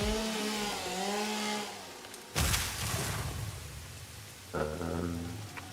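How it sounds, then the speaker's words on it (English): A chainsaw in the video game Satisfactory lets out a loud, harsh buzzing burst midway, held for about two seconds before fading into softer, steady tonal game sounds. "I just want to turn down the chainsaw sound."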